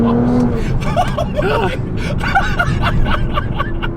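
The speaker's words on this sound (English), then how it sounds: "Another first gear pull." A Nissan sports car, a 370Z or R35 GT-R, pulls hard in first gear with a loud rising engine roar heard from inside the cabin, while excited voices talk over it.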